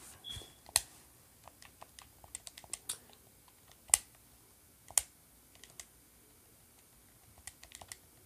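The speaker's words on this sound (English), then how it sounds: "I'm ready to type it in now." Keys clatter on a computer keyboard in scattered bursts of quiet clicks, with a few sharper, louder keystrokes standing out against a near-silent room.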